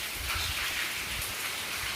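Heavy rain falls at night in a rural farming area, a dense continuous hiss of drops striking surfaces, steady and fairly close, with no voices over it.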